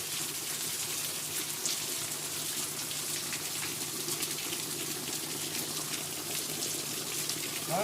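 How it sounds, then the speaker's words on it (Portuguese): Steady rushing water from heavy rain pouring in and running indoors, a constant close wash of noise with no talk. "que chuva gostosa"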